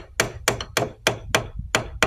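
A hammer strikes a part during repair work on a tractor, making seven sharp metallic blows at an even, brisk rhythm, close and loud.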